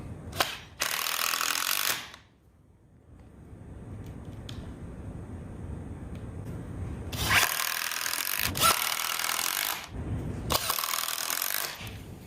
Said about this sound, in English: I'm just going to put in a couple of screws over here where I've already pre-drilled